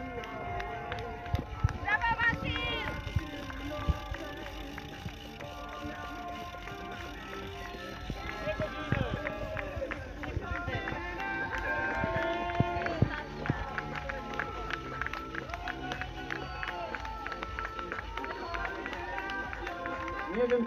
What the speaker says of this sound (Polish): 2600 biegaczy wystartowało i teraz właśnie oni biegają na metę.